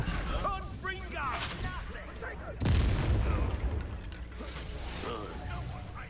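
Mid-fight in Hogwarts Legacy, a single loud Confringo blast lands as a sudden booming burst that rumbles briefly, with clanking combat effects and speaking voices around it.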